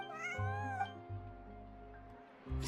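Cats meowing in the video game Genshin Impact, with a high, pitched meow followed by two lower, drawn-out meows over soft ambient game music, the calls close and clear.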